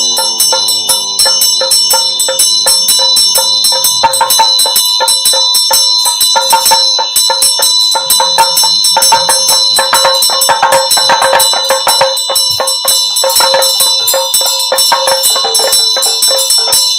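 Handheld ritual bell used in a Buddhist longevity retreat, rung continuously for seventeen seconds with a loud, close, shimmering, rapid ringing and no talking.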